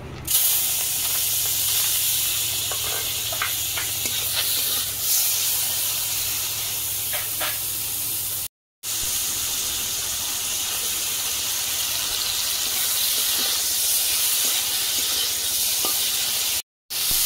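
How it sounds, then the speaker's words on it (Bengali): Prawns fry in a pan of hot oil, giving a continuous soft hiss and sizzle with occasional faint crackles, steady throughout apart from two brief cut-outs. "চিংড়ি মাছ ভেজে নেব।"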